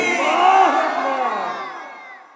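A crowd at an Islamic sermon shouts the takbir together in answer to the preacher. A loud, sustained chorus of many voices swells briefly and then tails off.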